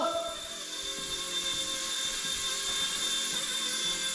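A Motion RC Mini Consuela model helicopter hovers nearby with a steady high-pitched whine from its rotor and motor, plus faint low flutter. It is continuous and fairly loud, with no voices.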